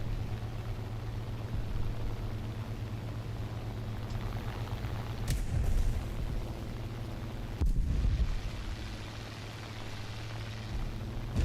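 Two bombs dropped from a plane in War Thunder go off as dull, low booms over a steady engine drone, the second following a couple of seconds after the first, both fairly muffled.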